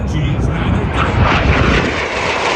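Frecce Tricolori solo jet at full throttle entering a 7 G maneuver at the 2024 California Capital Airshow: a loud, continuous roaring jet rush that swells and fades slightly, with an announcer talking over it.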